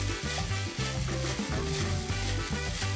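Seasoned mung bean sprouts for a Korean side dish being tossed and mixed, a steady rustling, sizzle-like hiss with low rhythmic thumps throughout, close and fairly loud, no talking.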